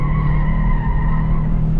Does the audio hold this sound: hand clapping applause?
no